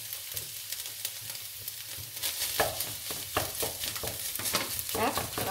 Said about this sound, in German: Dann kommt jetzt das vegane Hack dazu